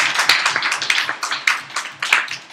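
A small group claps together, brisk overlapping hand claps, fairly loud and close, with no voices over them.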